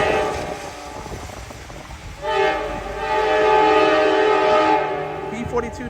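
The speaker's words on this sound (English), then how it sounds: "Your southbound train to Los Angeles, here it comes now." Amtrak Coast Starlight passenger train, southbound to Los Angeles, led by two P42DC diesel locomotives, arriving at Oakland Jack London Square station; a steady rumble swells as the train nears, joined midway by a loud sustained multi-tone air horn blast.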